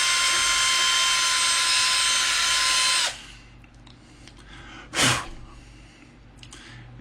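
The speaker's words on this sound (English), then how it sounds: "And just drill the trace." Small drill bit on a low speed setting boring through copper traces on a circuit board during a guitar pedal build: a loud, steady high-pitched whine for about three seconds, then it stops, followed by a brief handling knock.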